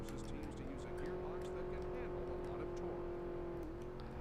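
A race car in the video game Nascar 2000 drones along at a steady engine pitch that rises slightly and then dips near the end, with a faint continuous engine note and light clicks under it.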